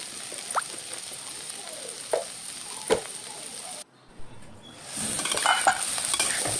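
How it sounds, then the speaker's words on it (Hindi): A spoon stirs potatoes, fenugreek and beans with dry spices in a pan, giving a few scraping strokes over a soft sizzle, then a brief pause before the frying sizzle rises louder and steadier. "इसे अच्छे से चलाना है ताकि ये हमारे सूखे मसाले अच्छे से इसमें मिक्स हो जाए।"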